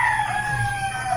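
A rooster crows in a vegetable garden, a drawn-out, fairly loud call that fills the whole brief moment with no talk over it.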